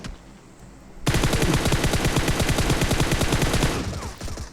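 Loud, rapid automatic gunfire from the video game PUBG Mobile, a dense sustained burst of shots lasting about three seconds after a quiet start, then tapering off, with no voices.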